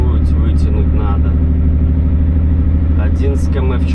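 Tractor engine straining as it pulls a Mercedes uphill: a loud, continuous low rumbling drone close by, steady throughout, with someone talking over it.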